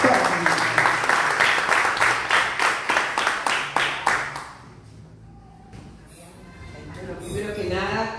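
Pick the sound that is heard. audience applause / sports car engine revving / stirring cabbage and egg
audience applause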